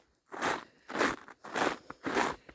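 Four crunchy footsteps on a frozen, near-freezing winter deer trail, each a loud close crunch in an even walking rhythm with short quiet gaps between.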